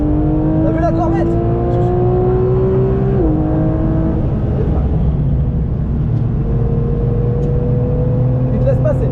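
A race car engine drones loudly and steadily on track at Dijon-Prenois, shifting pitch through gear changes while people talk over it inside the car; the Corvette being pointed out is not distinctly audible.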